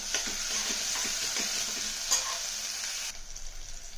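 Onions and green chillies frying in oil for a country chicken curry, a steady close hiss of sizzling with soft, regular stirring knocks through most of it, easing slightly toward the end.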